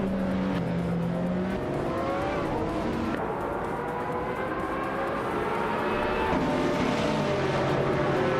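A 2009 Pagani Zonda R and other race cars launch from the start at the Chang track in a racing game, steady loud engine drone with shifting gear tones and pitch changes, no talking.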